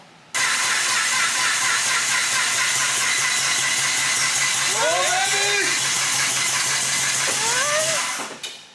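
Rotary-swapped Nissan S15 cranking over and struggling to fire, a steady loud churning hiss and rattle running for several seconds before cutting off, with a couple of brief higher whining tones partway through.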